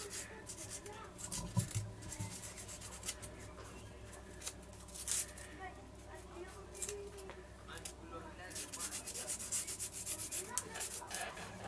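Sandpaper of 400 grit is rubbed along the edges of a throwing peg for an F3K glider wing, giving soft close scratchy strokes that come in uneven bursts, with a faint voice in the background.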